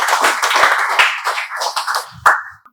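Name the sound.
students clapping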